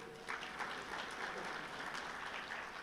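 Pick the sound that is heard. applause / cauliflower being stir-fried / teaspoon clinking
applause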